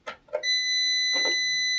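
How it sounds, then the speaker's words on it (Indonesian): A Prolink APC UPS being switched on gives a sustained, high-pitched electronic beep, steady and fairly loud. A couple of soft clicks come just before it starts, and one more comes partway through. "ini ada bunyi bip"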